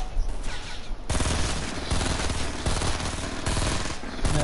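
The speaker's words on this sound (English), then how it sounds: "Oh, where we're getting shot at from?" Dense rapid gunfire rattles continuously through a battle royale video game match, loud bursts of automatic shots overlapping with no break.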